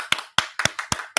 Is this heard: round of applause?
yes